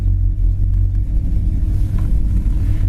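The engine of a 1972 Buick Skylark with a Mallory ignition idles at about 800 RPM, a deep, steady, loud rumble heard up close with a slight pulsing unevenness and no speech.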